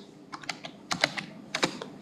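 Password keys typed on a computer keyboard during an online college course application, heard as quick irregular bursts of close, crisp clicks with short pauses between groups.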